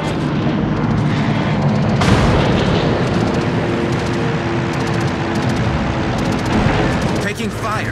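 Continuous heavy naval gunfire and explosions in World of Warships, a dense roaring barrage with booming salvos, with game voice callouts.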